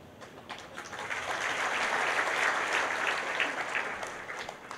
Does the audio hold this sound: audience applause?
yes